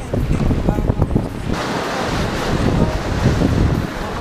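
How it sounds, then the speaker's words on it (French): Roaring 30-knot following wind and a huge sea crashing around a small sailboat during the Mini Transat race fill the recording with a loud, steady wash of noise, gusting and surging throughout. "Il y a 30 nœuds de vent qui vient pile de derrière, mais il y a une mer assez énorme."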